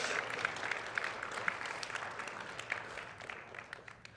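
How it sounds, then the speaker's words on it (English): Audience applause at a spoken address: a dense, steady crackle of many hands clapping, moderately loud and sustained throughout without a break. "Give a round of applause."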